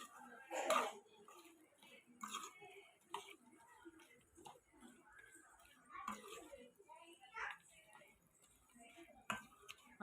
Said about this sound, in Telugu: ఇది మొత్తం ఇలా కలుపుకోవాలి